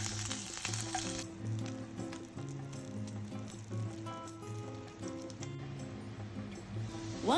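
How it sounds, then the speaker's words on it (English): Pork chashu grilling in a pan over medium-high heat for soy sauce ramen, a steady close sizzle and crackle with tonal hum running under it, no talk. "Grill over medium-high heat and golden brown the surface slightly."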